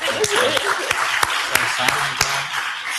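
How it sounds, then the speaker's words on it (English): Sparse applause for Jim during an online project session, a handful of distinct, spaced claps over a low hum, with a voice murmuring underneath. "give a big round of applause to Jim, who has worked so hard to make this happen"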